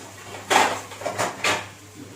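A lid set over a pan of tomatoes cooking down for homemade pizza sauce, a few quick metallic clatters and taps, close and moderately loud, then quiet.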